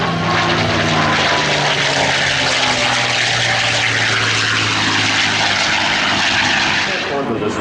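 A propeller warplane at the Abbotsford airshow drones loudly overhead, a steady engine roar with a shifting pitch as it passes and comes in, filling the whole stretch without a break.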